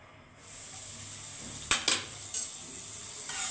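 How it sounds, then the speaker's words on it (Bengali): Butter sizzles in a hot pan for a potato-stuffed bread sandwich, a steady bright hiss with a few sharp clinks of utensil against the pan, close and without talking. "এইভাবে আমি আরেকটু অল্প বাটার দিয়ে দিচ্ছি।"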